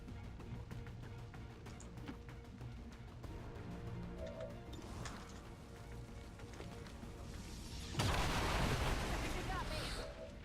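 An explosion erupts in the XCOM 2 strategy game, a sudden loud broadband blast near the end that follows a stretch of quieter game rumble and scattered impacts.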